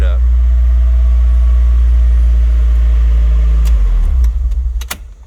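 A 1998 Mazda Miata engine runs steadily right after starting, a loud close idle hum that holds for several seconds before cutting off, with a few light clicks at the end.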